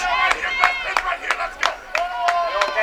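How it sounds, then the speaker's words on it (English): Softball fans at a game against Seattle clap and cheer in rhythmic bursts with chatter around them, a lively stop-start rhythm of claps and voices. "Fans still into it, which is what we love to see. They're cheering and they're staying around."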